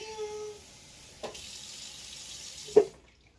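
Liquid poured into a pot of broccoli cheddar soup, a steady watery pour with a couple of sharp knocks, fading out at the end.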